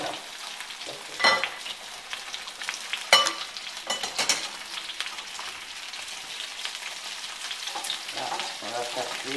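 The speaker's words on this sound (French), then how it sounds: "Là, on va faire cuire et dorer." Potatoes frying in a pan until golden for a country salad with poultry gizzards, making a continuous close sizzle with crackling spatters and a few sharp clatters of stirring.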